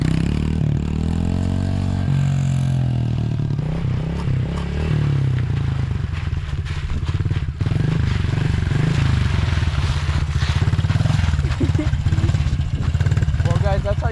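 A 110cc dirt bike with training wheels, either a Honda CRF110 or Kawasaki 110RL, holds a loud, close, buzzing engine drone during a wheelie, rising and falling with clattering and scraping, while voices talk over it.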